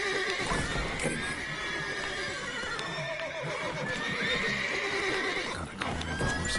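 Horses in The Witcher 3 on the Isle of Mists, loud repeated whinnies and neighs carrying through the whole stretch, with faint hoof clopping underneath and no speech.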